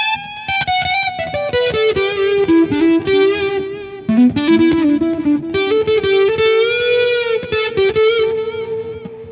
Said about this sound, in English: Like this one, it's called Stadium Lead for like stadium rock sounds.